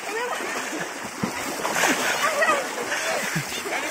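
Water splashes as a person wades slowly into a village pond, with soft sloshing and gurgling under people talking nearby.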